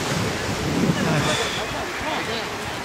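Atlantic Ocean surf at Tarifa, the southernmost point of Europe, rolls in as a loud, continuous roar of breaking waves mixed with heavy wind buffeting the microphone.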